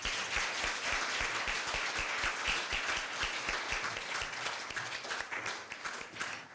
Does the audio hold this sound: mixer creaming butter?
no